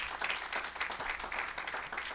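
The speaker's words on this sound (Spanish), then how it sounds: "démosle un aplauso al Señor" Congregation applauding in a church, a dense patter of many hands clapping at moderate distance, steady and fairly soft throughout.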